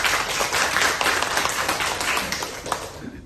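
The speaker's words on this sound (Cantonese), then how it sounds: "借大家嘅掌聲" Audience applause after a presenter thanks a company owner at a Cantonese product talk, a dense wash of clapping from many hands holding steady for about three seconds and tapering slightly at the end.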